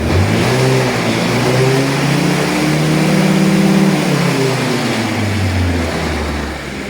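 A car engine, likely VW, revs up to around 11,000 rpm, its rising whine sweeping up then falling back, loud and close throughout.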